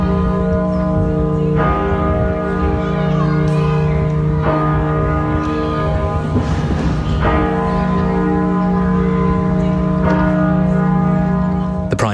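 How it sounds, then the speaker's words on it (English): Church bells peal at York Minster, a continuous loud ringing with struck strokes and a sustained hum, heard clearly without talk throughout. "Bells have been ringing out at churches across the country, including at York Minster."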